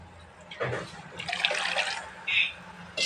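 Tamarind water is poured into a simmering fish curry, a splashing, gurgling pour that swells and fades, followed by a couple of short bright liquid bursts.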